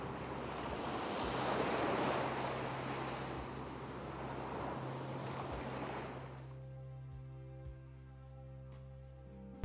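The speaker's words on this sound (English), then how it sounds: "A big wave is coming." A large ocean wave crashes and rushes with a loud, wind-blown surf roar for about six seconds, then gives way to a quiet, steady tonal backdrop.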